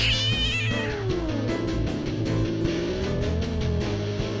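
A cartoon cat meows over game or animation sound: a drawn-out, wavering caterwaul with rising and falling pitch, loud and close, set against a busy background.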